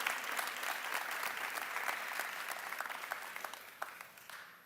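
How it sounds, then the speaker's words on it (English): An audience at a Knox County Schools annual report event applauds the schools and staff, with sustained clapping that stays steady and then tapers toward the end, no speech over it. "Let's give one more round of applause to all of the schools and the staff and students that they represent."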